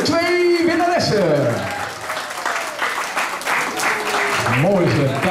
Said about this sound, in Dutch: Applaus voor Jaylin en Farah Jolie.